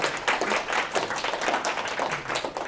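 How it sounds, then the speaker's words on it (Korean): Audience applause during a Korean lecture on Joseon scholars: a crowd claps steadily and briskly, the dense patter of hands filling the whole stretch at close, even loudness. "박수 크게 치세요."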